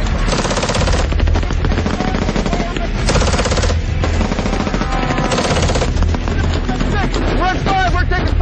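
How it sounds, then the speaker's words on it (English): Rapid machine-gun and rifle fire pours from a trench line in a loud, sustained barrage of sharp repeated bursts, with shouted voices and radio-style talk cutting in over the shooting. "Red 5, we're taking fire from the right trench line!"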